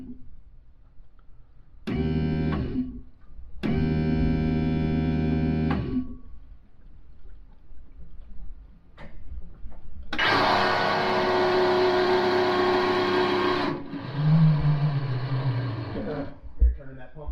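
An electric fuel pump primes the fuel system of a 1955 car, giving steady droning hums that start and stop in separate runs, the last and loudest with a shifting whine, as people talk in between.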